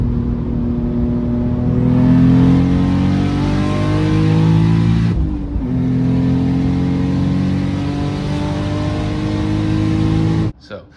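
Turbocharged BMW E46 pulling hard on the highway, its engine droning loud and steady with rising pitch through gears, a brief dip mid-run as it shifts, then cutting off near the end.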